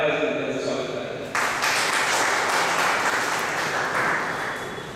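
An audience breaks into sustained, broad applause to welcome a guest at a company gathering in Khanapur. The clapping starts suddenly after a voice on the speaker system and then stays loud and even.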